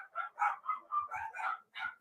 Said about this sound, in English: My neighbor walking their dog